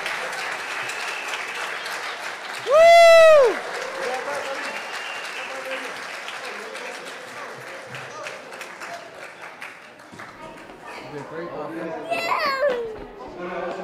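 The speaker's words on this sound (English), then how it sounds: "Round of applause" Audience applause after a four-year-old's violin and piano recital, steady clapping with a loud whooping cheer early on, children's voices and chatter mixed in, and a high childish squeal near the end.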